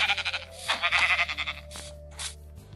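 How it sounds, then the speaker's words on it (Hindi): A sheep bleating outdoors in a run of wavering, nasal cries, first several quick pulses and then shorter calls, close and fairly loud over a low steady hum. "इधर एक भेड़ है।"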